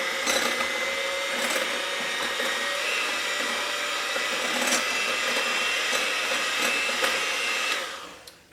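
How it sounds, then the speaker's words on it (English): Dry ingredients for keto blueberry muffins being mixed with a steady, loud motorized whir that runs continuously, then winds down and stops at the end. "we're going to go ahead and mix this to make sure this is all mixed thoroughly"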